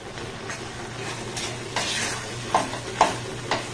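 A spoon stirs and scrapes a thick ripe palm fruit and milk powder mixture in a pan, with a soft sizzle underneath. Several distinct scraping strokes come near the end, close and moderately loud, and no one speaks.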